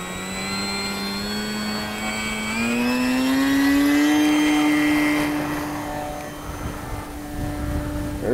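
A Durafly Tundra RC plane's electric motor whines steadily while towing a glider, its pitch climbing then holding high before fading as it passes, with an outdoor breeze beneath.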